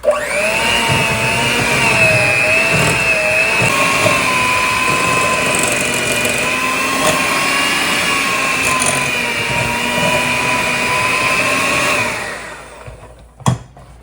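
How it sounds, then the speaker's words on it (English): An electric mixer whirs as it blends peanut butter and jelly cookie dough with all-purpose flour and baking soda; a loud steady motor drone runs about twelve seconds, then winds down, followed by a single sharp knock, with no voices. "I'm gonna go ahead and whiz it again."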